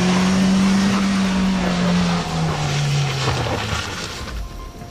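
A vehicle struggles on a muddy mountain road between Beni and Jomsom with its tyres spinning. A loud, close engine whine holds and then slides downward as gritty churning noise carries on.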